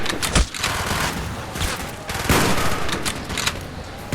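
Gunfire fills a battle in the Call of Duty: Black Ops video game, loud, dense bursts of automatic weapons and shots with occasional booms, continuous and close.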